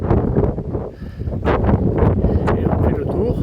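Wind buffeting the microphone in heavy low rumbling gusts, with scattered rustles and a few brief sounds over the roar.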